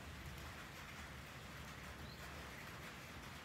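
Steady light drizzle falling on and around a Sulcata tortoise's small outdoor pool, a constant soft hiss of rain without pause.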